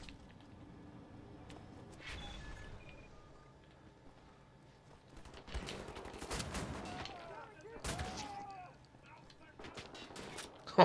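Shotgun blasts in the shooter Wolfenstein The New Order, several sharp booming shots spaced seconds apart amid combat clatter and a quiet background, with voices briefly heard.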